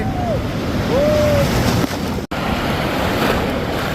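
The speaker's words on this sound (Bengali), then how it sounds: "বড় বড় ঢেউ আসতেছে" Big waves roll onto Kuakata beach on the Bay of Bengal, a steady broad roar of surf with wind noise, a brief dropout midway and faint whistle-like tones early on.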